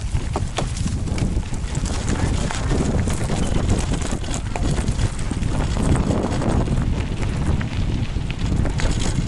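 Cows walking along a road on Old Grand Mesa during a klunker bike ride, faint hoof knocks buried under steady wind rush on the microphone, with no talk.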